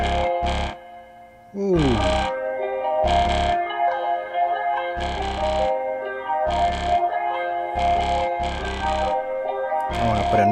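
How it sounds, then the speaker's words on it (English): Instrument track in BandLab playing with a slight distortion effect applied, a steady harmonic-rich tone with rhythmic gaps and bursts, loud and close, with a brief vocal exclamation near the start. "I'm going to put a slight distortion on this"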